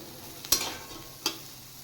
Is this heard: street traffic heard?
no